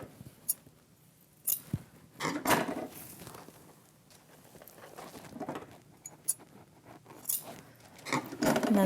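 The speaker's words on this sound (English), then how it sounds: "So first just cut it in half." Scissors cut craft material for a dreamcatcher, with a few quiet, sharp snips and rustling handling sounds scattered across a mostly calm stretch.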